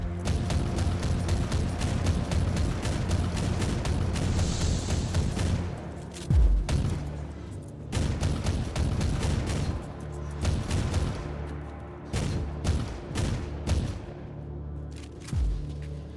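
Mortar fire in the game Warhammer 40K Inquisitor Martyr: repeated heavy booming blasts and rumbling explosions with mechanical clatter, loud and continuous, with a few sharp impacts standing out.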